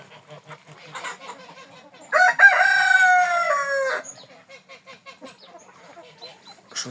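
A rooster crows once among domestic chickens, a loud drawn-out call lasting a couple of seconds, surrounded by softer clucking and chatter of other fowl nearby.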